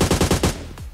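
AUG assault rifle with a 6x scope fired in PUBG: a rapid burst of about five or six close, loud shots in a quick regular rhythm, then a short echoing tail.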